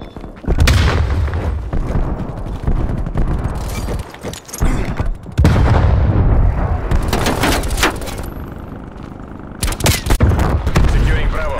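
Heavy booming blasts of frag grenade explosions in Call of Duty Black Ops Cold War, loud and close, mixed with dense gunfire bursts and voices speaking through the chaos.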